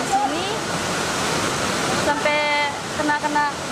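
A waterfall at a tourist site in West Nusa Tenggara, heard as a steady full roar of rushing water throughout, with a voice talking over it in places.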